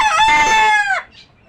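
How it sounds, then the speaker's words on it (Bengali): A desi country chicken on a rooftop farm lets out a single loud, drawn-out crowing call up close, ending abruptly, followed by a faint brief cluck in otherwise quiet surroundings. "আর এই হলো আমার দেশি মুরগি।"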